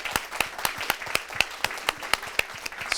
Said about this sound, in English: Let's give Union College a big round of applause.